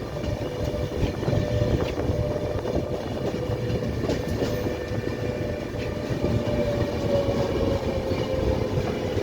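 Andhra Pradesh Express passenger train at Amla Junction, a loud steady rumble of rolling stock with faint clickety-clack, heard from on board, with no talking.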